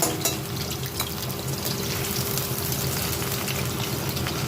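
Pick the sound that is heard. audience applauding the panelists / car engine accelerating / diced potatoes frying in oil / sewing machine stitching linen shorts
diced potatoes frying in oil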